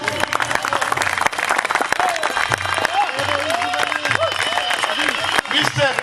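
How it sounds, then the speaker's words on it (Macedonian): An audience claps at a ceremony honouring the FCI president, producing dense, sustained applause with a speaker's voice carrying over it. "Ве молам еден аплауз"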